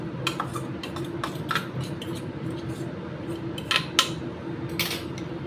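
Peanuts being added to a papaya salad in a bowl, with a series of light clinks and taps of a utensil against the dish over a low steady background hum.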